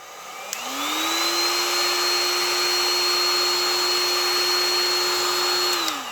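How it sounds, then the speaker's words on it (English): A heat gun stripping paint from an Ernie Ball Music Man MM1 guitar body switches on and ramps up into a steady, loud, whining blower roar that holds evenly, then winds down at the end, with no talking. "I'm actually just going to attack the actual guitar with the heat gun"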